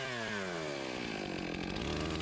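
A chainsaw cuts into a tree for the felling cut beside the notch. The engine runs loud and close at high revs, its pitch sliding as the chain bites into the wood.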